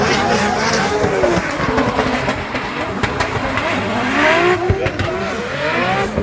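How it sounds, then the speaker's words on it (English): Drift cars, including a Toyota GT86, run wheel to wheel at a Drift Masters round in Ireland, with loud continuous engines revving and tires squealing up close. Crowd and commentary noise sit in the background. "fires through the smoke up onto the wall, up onto the side of that Toyota GT86 as they go wheel to wheel"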